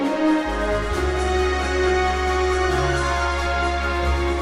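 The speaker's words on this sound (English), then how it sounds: "this is the Berlin strings legato ostinato." Orchestral track built on a Berlin Strings legato ostinato string pattern, sustained layered string tones over a steady deep low note, with melodic shifts and no talking.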